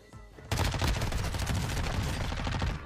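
Dense, sustained automatic gunfire in the Warzone 2 battle royale shooter bursts in after a quiet half second, with rapid overlapping shots that stay loud and close to the end.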